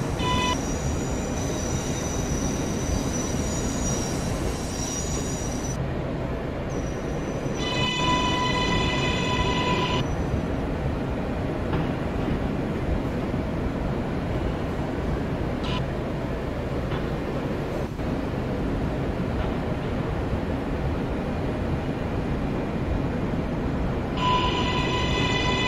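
Inside a moving New York City subway local train, a continuous loud rumble of wheels and carriage fills the ride, with brief tonal chimes or signals breaking through now and then.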